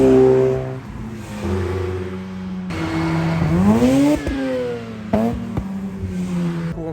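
Rotary-engined cars arriving late at a rotary car meet drive past one after another, engines revving and rising in pitch as each sweeps by close, with sharp, buzzy exhaust notes and no speech.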